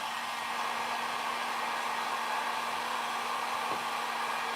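Steady, even blowing of a hand dryer drying pigment on a painted Christmas tray during a craft makeover, a constant airy hiss at moderate level with no talk over it.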